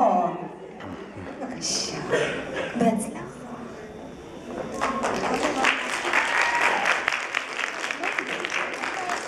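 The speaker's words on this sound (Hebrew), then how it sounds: "מה זה, מה זה, מה זה המחיאות כפיים" Applause from an audience greeting a performer called to the stage, a steady wash of clapping mixed with chatter and a few chuckles, swelling fuller in the second half while voices talk over it.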